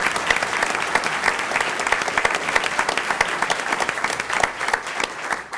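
Sustained audience applause fills a village board meeting, dense steady clapping from a room of people that holds at an even level throughout and thins slightly at the very end.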